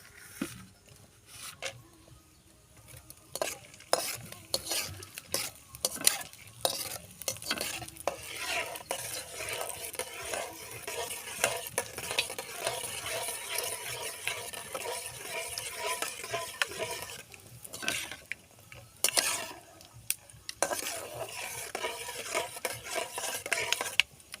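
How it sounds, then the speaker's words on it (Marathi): Peanuts fry in oil for tari poha, a steady crackling sizzle with frequent scraping and clinks of a spoon stirring against the pan, fairly close and continuous with brief dips. "पहिली शेंगदाणे तळून घ्यायचे तेलामध्ये"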